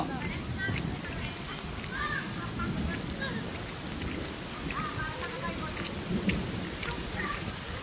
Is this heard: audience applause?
no